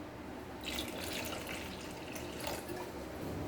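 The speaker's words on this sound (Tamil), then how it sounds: "இது கூட நம்ம தண்ணி கொஞ்சம் ஆட் பண்ணிக்கலாம்" Water pours and splashes quietly into a pot in a continuous stream, with no talking.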